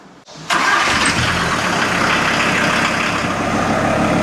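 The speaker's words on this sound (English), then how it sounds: "So let's start the engine and leave it run to the normal operation temperature." A VW T4 with the AAB diesel engine cranks briefly and catches, then settles into a loud, steady, close diesel idle with no talking over it.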